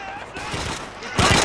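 Submachine gun fire in the video game Call of Duty 2, a short loud burst of rapid shots near the end of a brief stretch of game noise, with a voice heard faintly underneath.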